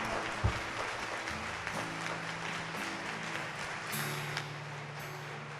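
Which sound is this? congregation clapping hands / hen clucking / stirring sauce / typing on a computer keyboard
congregation clapping hands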